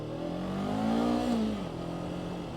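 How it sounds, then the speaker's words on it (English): A Voge 525RR motorcycle engine revs up steadily, its pitch rising for about a second and then easing back as the bike rides on. A continuous, fairly loud engine drone with no talking. "This bike definitely sounds meaner than CF Moto"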